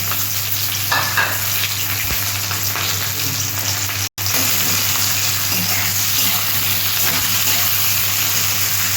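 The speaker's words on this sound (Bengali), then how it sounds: "পেঁয়াজটা আমি একটু ফ্রাই করতে দিলাম" Chopped onions frying in a pan for a Bengali bottle gourd and egg curry, a steady loud sizzle with occasional stirring scrapes, close and continuous with no talk.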